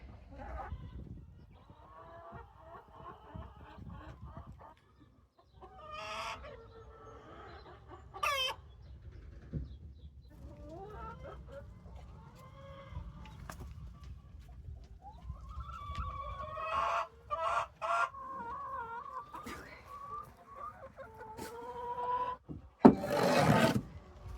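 Hens cluck and squawk in irregular bursts, with occasional loud sharp calls, close by over scraping and shuffling noises.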